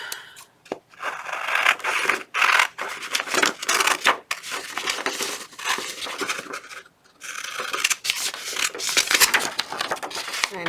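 Scissors snip and scrape through paper while cutting out a pocket shape, steady close crunching cuts with short pauses, alone without talk.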